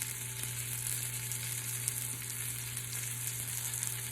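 Food sizzling in a frying pan, a steady crackling hiss with a low hum underneath, continuous and close, with no voices.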